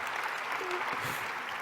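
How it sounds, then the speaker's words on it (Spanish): An audience applauds at a business award ceremony, the Premio Aragón Empresa 2017, a brief wash of many hands clapping evenly at moderate volume. "Aplaudan si lo estiman oportuno, que no pasa nada."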